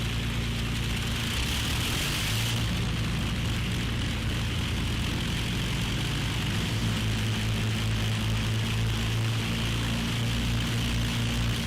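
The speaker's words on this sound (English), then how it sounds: "make sure they're stabilised at 1200 RPM and we allow the engines to warm up" The piston engines of an Avro Lancaster bomber run and warm up at about 1200 RPM, a loud steady propeller drone that shifts in pitch as another engine joins, with no voices.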